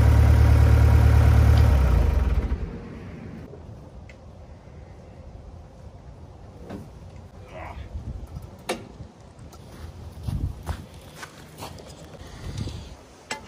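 A skid steer engine idles as it warms up. A loud, steady rumble lasts about two seconds, then drops to a faint background hum broken by scattered clicks and footsteps.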